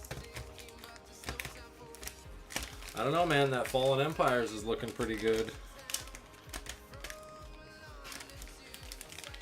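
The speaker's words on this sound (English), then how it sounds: "Should I riffle shuffle a bunch of packs?" Magic: The Gathering booster packs are riffle shuffled, giving a rapid crisp fluttering clatter of cards and foil wrappers up close, with someone talking over it.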